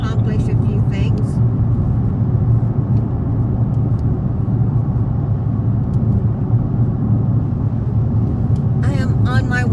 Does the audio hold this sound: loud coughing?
no